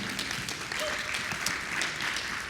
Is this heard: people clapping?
yes